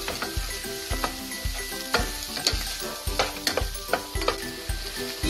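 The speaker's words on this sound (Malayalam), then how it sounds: "ഈ ചിക്കൻ നമുക്ക് 1/2 ഫ്രൈ ആക്കാം" Chicken sizzles and crackles in a pan, with a steady rhythm of stirring clacks repeating roughly twice a second, close and fairly loud with no talking.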